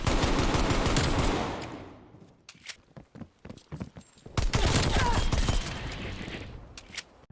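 Rapid automatic gunfire from an Xbox Series X shooter game played on a Dyeport custom modded controller: dense, loud bursts of shots, a pause with scattered single shots, then another sustained rapid-fire stream.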